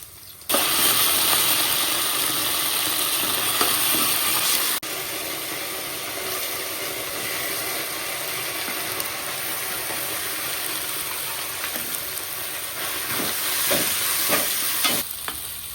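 Small onions fry in hot oil with ginger garlic paste and are stirred, giving a steady loud sizzle with intermittent scraping of the spoon against the pan throughout.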